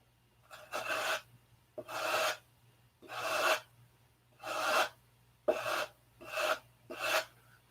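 Sanding by hand with 80 grit sandpaper during hangar repair work, seven rasping back-and-forth strokes in a steady rhythm with short pauses between them, close and fairly loud over a low steady hum.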